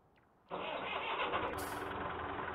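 A tractor engine starting up in Farming Simulator 19 turns over and catches abruptly, then settles into a steady, loud, close running drone with no talk over it.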